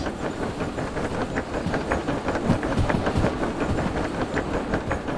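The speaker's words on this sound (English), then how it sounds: "Hello, train." A train rolls past in the Derail Valley railway game, a steady rhythmic clickety-clack of wheels over rail joints with a loud, continuous rumble throughout.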